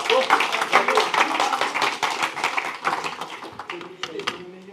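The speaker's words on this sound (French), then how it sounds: "Merci, on peut l'applaudir." Scattered audience clapping rises briefly at a French talk, with sparse hand claps heard under ongoing speech and fading toward the end.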